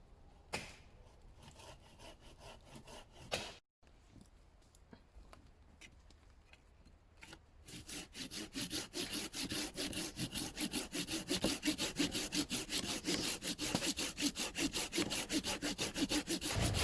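A Bahco Laplander folding hand saw trims short lengths of log outdoors, with a few scattered knocks at first, then from about eight seconds a steady, loud run of rapid back-and-forth rasping strokes close by.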